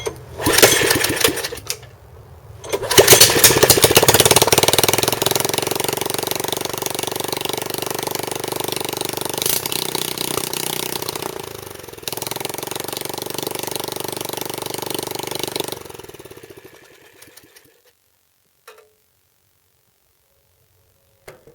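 A small MTD rototiller engine runs loudly and steadily, with a brief dip in the middle, then dies away to silence near the end with a few faint clicks.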